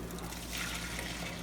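Milk with yogurt culture pours into an inner batch container over a kitchen sink, a soft, steady trickle that is faint and close.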